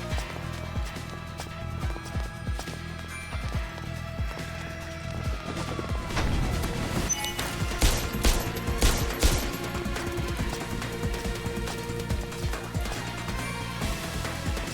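Gunfire rings out in the video game Parasite Mutant amid dense combat effects: rapid shots, slashes and crashes layered over steady game music, loud and busy throughout.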